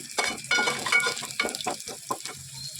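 Onion, garlic and curry leaves sizzle in a little oil while making a peanut palya, with bursts of crackling and stirring strokes at an uneven rhythm, close and clear with no talking.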